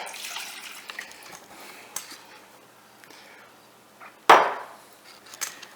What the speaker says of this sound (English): So 1 cup of water in there